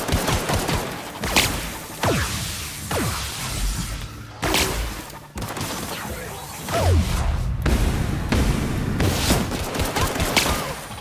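Repeated bursts of weapon fire from the player's gun in The Outer Worlds, loud sharp shots with whooshing tails against robots, coming in irregular volleys over about eleven seconds while someone talks under them.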